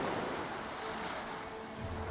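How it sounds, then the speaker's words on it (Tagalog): Ocean waves wash continuously on a quiet, remote shore, a steady broadband surf roar with some wind noise and no voices. "Puro alon lang ang maririnig mo"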